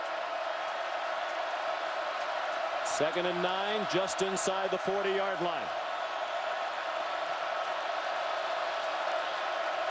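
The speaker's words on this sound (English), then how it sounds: "Crowd noise has been deafening from the start." A Penn State football stadium crowd roars as a steady, dense wall of noise during the Ohio State game, running continuously beneath a commentator's speech.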